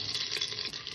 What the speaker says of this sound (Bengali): আদাটাকে একটু কষে নেব যাতে কাঁচা গন্ধটা না থাকে।